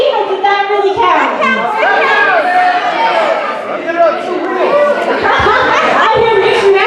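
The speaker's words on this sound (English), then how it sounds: "I hear mixed reactions from the crowd." An indoor convention crowd at a robotic teapot race keeps up a dense, continuous mix of overlapping chatter, children's voices and scattered chuckles and laughter.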